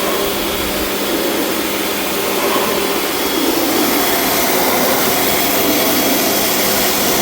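A pressurised spray jet washes the air conditioner evaporator coil of a 2017 Chevrolet Colorado, a loud, steady hiss-roar up close that holds without pause.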